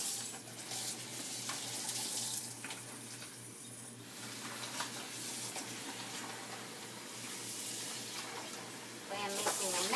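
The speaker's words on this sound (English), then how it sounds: "Rinse out this bag." A kitchen tap runs while a plastic bag that held hamburger meat is rinsed out, giving a soft, steady water flow with splashing at the start and end. The sound is quiet, and someone speaks at moments.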